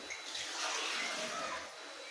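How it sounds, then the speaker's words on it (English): Water poured into a pan of frying beef stew with peas: a steady, close rushing hiss of liquid hitting the hot pan, lasting about two seconds and easing off at the end, with no talking. "I'm gonna be adding some water"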